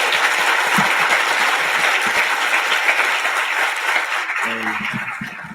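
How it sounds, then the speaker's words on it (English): Applause after a speech at a Martin Luther King Jr. and Black History Month celebration, steady crowd clapping with some voices mixed in, thinning near the end as a voice starts to talk. "Clap it up again for that beautiful speech."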